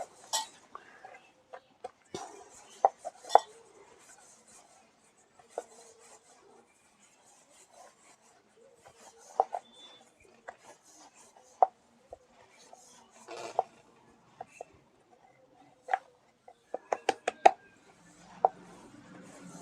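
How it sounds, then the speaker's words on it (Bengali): Stuffed soybean paratha dough being rolled out on a board, intermittent soft rubbing and rasping of the rolling pin with scattered sharp wooden clicks and knocks, quiet between strokes, no voices. "এটাকে আস্তে আস্তে বেলে নিতে হবে।"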